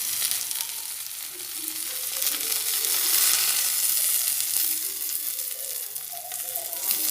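Boiled cut pieces sizzle in a frying pan, a continuous crackling hiss that swells in the middle, with faint stirring scrapes.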